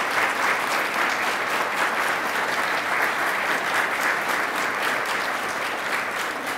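Steady, loud applause from a sizable crowd at a university Martin Luther King, Jr. Day writing awards ceremony, continuous clapping that holds at an even level throughout.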